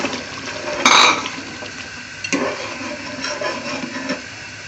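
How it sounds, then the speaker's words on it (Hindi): Tamarind pulp poured into a simmering beef curry for biryani, a brief liquid splash and pour followed by soft bubbling and faint clinks from the pot. "अब ये सिंपल इमली का पल्प है जो हम इसी सालन में डाल रहे हैं"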